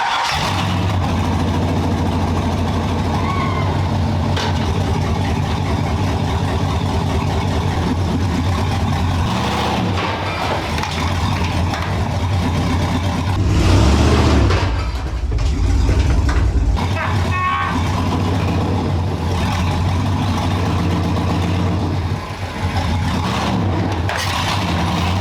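A 1954 Chevy rat rod engine runs steadily, a loud, close low rumble that swells briefly as it revs and moves, with someone talking over it.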